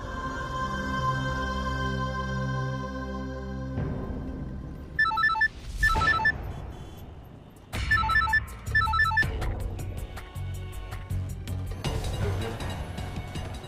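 Phone ringing during an outgoing call, a repeated electronic ringtone with short bursts of bright trilling tones that come and go over a sustained background tone.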